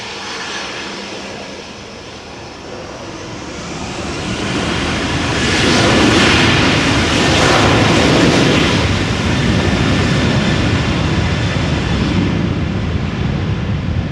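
A Boeing 737-800's engines roar up into a loud, broad rumble that swells and holds steady, the sound of a takeoff from Amsterdam Schiphol heard from nearby.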